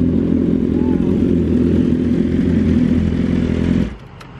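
A 2022 BMW S1000RR superbike engine on a custom pump-gas tune holds a loud, steady, close rumbling rev for about four seconds, then cuts off abruptly to quiet.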